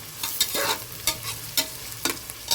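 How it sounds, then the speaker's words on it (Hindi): Onions fry in a pan for Kashmiri mutton rogan josh, a close sizzle broken by rhythmic scraping strokes of a spoon stirring them, about five or six sweeps in quick succession. "यहाँ पर प्याज हमारी जो है ब्राउन हो रही है। धीरे धीरे हम इसको चलाते जा रहे हैं।"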